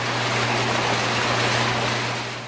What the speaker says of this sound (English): This is called a cascading faucet.